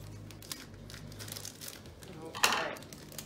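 Plastic packaging around a new, unused paintbrush crinkles and tears as it is pried open, with scattered crackles building to one louder rip near the end, over a low steady hum in a quiet room.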